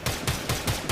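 Stradavar Prime gunfire in Warframe, video game: five rapid semi-automatic shots in an even rhythm within a second, punchy and close.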